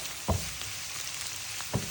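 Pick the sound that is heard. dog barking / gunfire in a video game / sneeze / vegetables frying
vegetables frying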